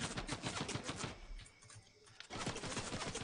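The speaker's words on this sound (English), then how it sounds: "Where's the shots coming from?" Rapid bursts of gunfire in Fortnite, sharp repeated shots in quick rhythm, stopping briefly for a lull before another volley starts, heard faintly at a distance.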